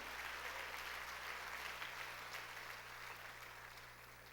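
A Korean congregation at Jesus Centered Church claps during a sermon. The clapping is a steady, fairly faint wash over a low electrical hum and fades slightly toward the end.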